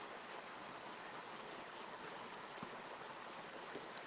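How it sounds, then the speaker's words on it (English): A creek runs by outdoors, a steady faint rushing and burbling of flowing water that holds unbroken throughout, with no voices. "Everyone hears the creek running by."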